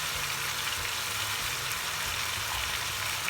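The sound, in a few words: onion paste sizzling in pan for Goan chicken xacuti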